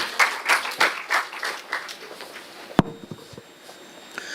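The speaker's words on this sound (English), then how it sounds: "so good round of applause" A small crowd claps for a few seconds, uneven and moderately loud, then the clapping trails off into a quiet room with a sharp knock.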